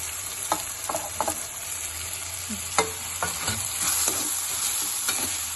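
Carrots deep fry in a pan with a steady close sizzle, while a spoon stirs and scrapes in scattered clicks and strokes throughout; no one speaks.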